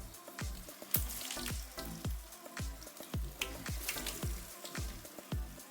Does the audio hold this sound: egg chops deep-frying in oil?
yes